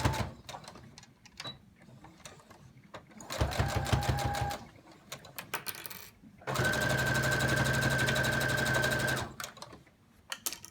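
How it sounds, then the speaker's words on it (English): A sewing machine stitches a narrow seam on a gathered fabric face mask, running in two steady mechanical whirring bursts, the second one longer. Quieter handling noises and a voice come between the bursts. "we're going to do a 1/8 of an inch seam right here to enclose"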